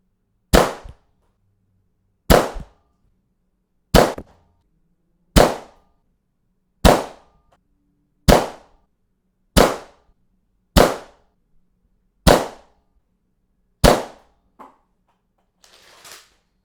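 A Nerf Caliburn blaster fitted with a K25 spring and a Scar barrel fires worker darts in about ten sharp, evenly spaced snaps, each followed by silence, close and loud, ending with a faint rustle.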